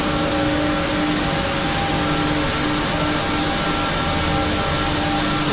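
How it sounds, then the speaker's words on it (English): A dust extraction system runs in a boat-building workshop, a loud, steady, broadband roar with a faint hum beneath, constant throughout and without talk. "And that's all dust extraction, I guess."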